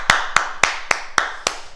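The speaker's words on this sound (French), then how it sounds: "On fait un grand salut et on s'applaudit." Six sharp, evenly spaced claps from an exercise class after a workout, close and distinct with short pauses between them and no talking.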